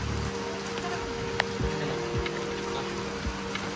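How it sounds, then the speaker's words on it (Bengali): Steady evening rain falls on outdoor surfaces, a continuous close hiss with a few louder drops and taps breaking through the wash. "বৃষ্টি ভেজা সন্ধ্যেবেলা"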